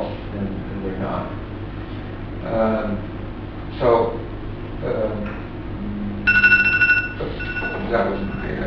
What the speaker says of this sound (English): That was my timer for stopping.